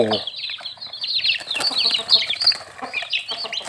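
A mother hen with nine young Phanat gamecock chicks: a few low clucks open, then a steady stream of high, overlapping chick peeps and chirps, close and fairly loud throughout.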